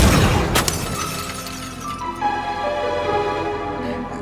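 Mirror glass shatters in a sharp, loud crash, then pieces tinkle and scatter as the ringing decays over several seconds, with no talking.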